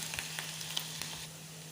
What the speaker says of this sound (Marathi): कांदा लसूण चांगला फ्राय करून घ्यायचा आहे